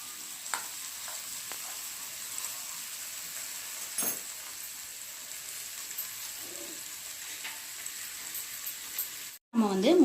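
A masala omelette of beaten egg and spices fries in a pan with a soft, constant sizzle, broken by a few light scrapes and taps, and a short louder clatter near the end; no one speaks over it.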